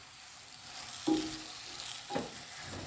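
Food fries quietly in a pan with a soft, steady sizzle, marked by two brief louder stirs or scrapes about a second apart.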